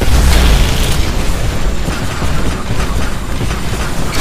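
Rumbling mortar barrage from Titanfall's mortar titans pounding the harvester, a dense, continuous wall of booming low-end impacts and blasts that stays loud and steady throughout, with no talk.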